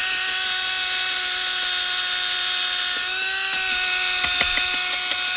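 A power drill fitted with an auger bit bores into dirt to dig a flagpole hole, a loud, high-pitched steady whine with a few gritty knocks and scrapes near the end.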